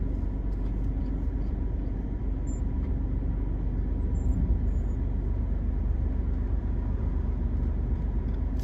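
Steady low rumble of a car idling and rolling slowly around a parking line at a food bank distribution, a continuous engine drone close by with no talk.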